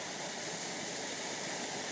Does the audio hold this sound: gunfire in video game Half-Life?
no